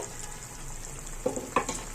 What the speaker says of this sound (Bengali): নেড়ে জিরার গুঁড়োটা মিশিয়ে দিচ্ছি আমরার সাথে